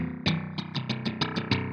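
A guitar run through a Carl Martin Red Repeat delay pedal, bright plucked notes smeared into repeating echoes with a metallic, distorted, spring-tank-like shimmer, fairly loud and alone.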